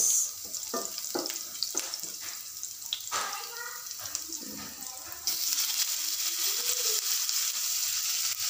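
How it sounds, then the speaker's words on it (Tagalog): Onion and garlic sizzle while being sautéed in a pan for an ampalaya dish, with a steady frying hiss throughout and stirring scrapes that get louder and busier partway through. "Nag-isa lang po ako dyan ng sibuyas at bawang"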